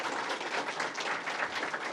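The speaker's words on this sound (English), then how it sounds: "Let's give a round of applause for our elected officials" Crowd applause for elected officials at a government announcement on student reading, a brief, dense, continuous patter of many hands at moderate volume.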